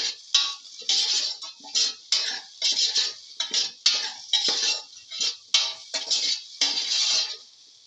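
A spoon clinks and scrapes against a pot or bowl while a scrambled egg and potato mixture with salt is stirred, in quick repeated bursts of close metallic scraping and clinking with no talking.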